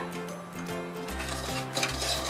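Semolina dry-roasting in a pan for a rava kheer, a spoon scraping and stirring with steady soft rustling and light clinks of metal, close up with no voices.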